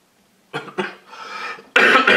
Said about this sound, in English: I've been coughing the full week.